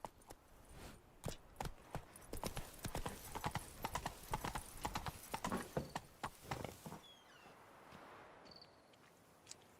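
Roach, the horse in The Witcher 3, trots with quick close clip-clopping hooves in a steady rhythm, then the hoofbeats stop and a faint ambient hush with a brief high call remains.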